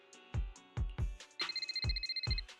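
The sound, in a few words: phone ringing in a video game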